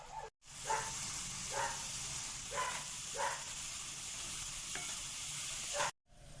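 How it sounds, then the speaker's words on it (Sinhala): Ground jackfruit seeds are stirred into hot coconut syrup for toffee, a spoon scraping the pan in roughly regular strokes over a soft, constant bubbling sizzle, quiet and close with no talking. "දැන් හොඳින් හැදි ගා ගන්න තියෙන්නේ."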